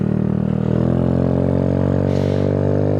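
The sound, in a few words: motorcycle accelerating with loud exhaust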